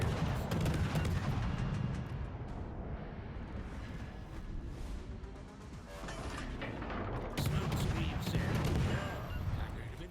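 Main guns of the warship Dido fire in World of Warships Legends, heavy booming salvos that open the clip and return near the end, with rumbling battle noise in between and a voice talking over it.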